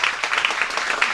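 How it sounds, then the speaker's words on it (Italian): Audience at a conference applauding a guest, a brief burst of steady, dense clapping from a crowd in a hall. "Facciamo un bel applauso per il nostro secondo ospite"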